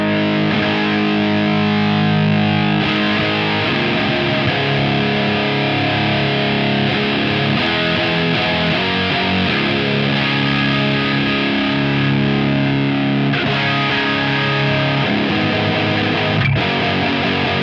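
Electric guitar chords played through a VS Audio Operation Trinity pedal, a dense, sustained distorted wall of sound ringing continuously with a few chord changes, loud and close with no talking.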